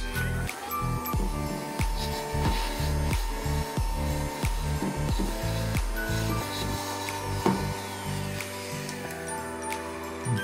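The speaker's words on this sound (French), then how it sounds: "Allez, un petit coup d'aspirateur." A small handheld vacuum cleaner sucks loose glitter off a watercolor Christmas card, a steady close whirring hum running throughout with slight changes in pitch as it moves over the paper.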